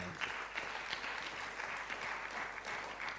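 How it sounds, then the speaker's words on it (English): Audience clapping at a public lecture of the Ghana College of Physicians and Surgeons, honoring a tropical medicine scientist; a continuous, fairly even patter of many hands at moderate distance. "Clap for her."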